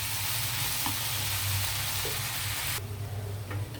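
Steady, loud sizzling and frying of amaranth leaves (thotakura) wilting in a hot pan for a dish with dried shrimp, a continuous hiss that dips a little in level toward the end.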